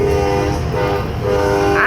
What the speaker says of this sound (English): you don't even have to ask to hear horns right now